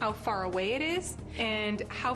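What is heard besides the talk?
None of the usual background noises is heard.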